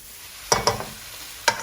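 Sichuan spicy shrimp stir-fried with garlic in a wok, three sharp spatula clacks over a faint background sizzle, close and brief.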